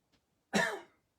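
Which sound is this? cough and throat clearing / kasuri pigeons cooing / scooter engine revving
cough and throat clearing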